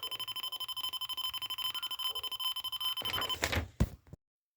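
A small loudspeaker on a microcontroller board beeps in a fast, steady pulsing pattern, fairly faint, then ends in a short burst of handling clatter before falling silent.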